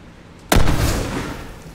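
A bomb explodes in The Last of Us video game, a single sudden loud blast with a broad booming burst that rolls off into a long fading rumble, with no talking.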